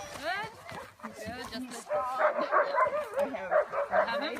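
Sled dogs in the Valdres Valley in Norway yip and bark repeatedly, nearby and fairly loud, mixed with whining, while people talk over them.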